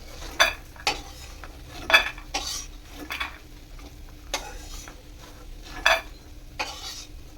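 Bori lentil dumplings frying in oil give a soft, low sizzle beneath repeated sharp clinks and scrapes of a utensil against the pan, close and intermittent.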